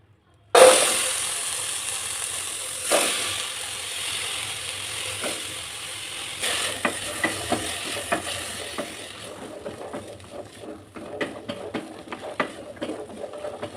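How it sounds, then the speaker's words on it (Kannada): Washed cluster beans roast in a pan over a high flame with a continuous close sizzle. A burst of frying opens the sound, then repeated scraping and clicking stirs follow in an uneven rhythm. No one talks. "ಈ ಜೋಳಿಕಾಯಿ ಎಲ್ಲ ನೀಟಾಗಿ ತೊಳ್ಕೊಂಡು ಪ್ಯಾನಲ್ಲಿ ಹಾಕ್ಕೊಂಡು ನೀಟಾಗಿ ಹುರ್ಕೊಳ್ಳಿ"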